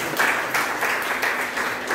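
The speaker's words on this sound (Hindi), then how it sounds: "वंश तो इतना प्यारा बच्चा है हमारा, एक बार और ताली बजा दो, खुश हो जाएगा।" An audience at a school investiture ceremony claps for a child, a continuous burst of dense applause filling the short moment.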